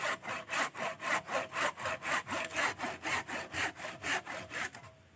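A hand saw cuts through wood in a steady rhythm of about twenty even back-and-forth strokes, close and clear, with no talking, ending as the blade stops.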